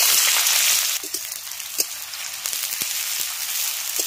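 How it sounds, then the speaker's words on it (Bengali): Finely chopped onion dropped into hot oil, a loud hissing sizzle that softens after a second into a steady crackle with scattered pops, close, no voices. "এবার তেলের মধ্যে দিয়ে দিচ্ছি একদম মিহি করে কোচানো পেঁয়াজ।"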